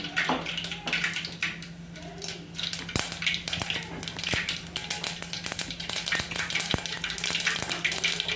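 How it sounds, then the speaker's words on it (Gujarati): Mustard seeds spluttering in hot oil at the start of an okra curry: sharp, irregular pops and crackles over a steady close sizzle, with no talking. "હવે આપણે રાઈ નાખી દઈશું।"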